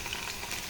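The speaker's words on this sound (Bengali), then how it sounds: "ও তো আলু ভাজা দেখলে ভয় পায়" Potatoes frying in hot oil give a steady, dense sizzle with no breaks. It sounds close and moderately loud and fills the whole short moment.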